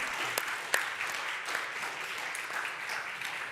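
Faint, scattered applause from a small audience at a crypto trading event, a thin patter of clapping with a few distinct sharp claps, heard at a distance.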